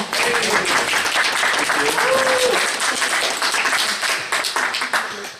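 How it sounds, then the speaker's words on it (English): Sustained applause from a live audience at a talk on energy politics and UFOs, a dense steady clatter of clapping filling the room throughout, with a speaker's voice faintly audible underneath. "I think they deserve a round of applause"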